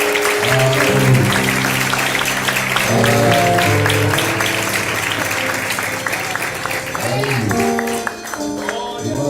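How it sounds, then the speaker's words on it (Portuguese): A church congregation at a communion service claps steadily and fills the room, while voices and sustained music tones carry over the applause throughout. "Aplauda o nome do Senhor."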